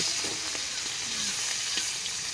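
Small hilsa fish fry in hot oil in a village kitchen, giving a steady, dense crackling sizzle with scattered pops throughout.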